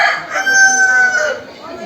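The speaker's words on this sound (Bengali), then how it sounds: "এই দেখো মুরগি, এগুলো মোরগ মুরগি, এগুলো বিক্রি হচ্ছে।" Roosters and hens for sale at Dimapur Super Market in Nagaland, a loud close rooster crow stretching across the whole moment with a hen clucking faintly beneath, no talking.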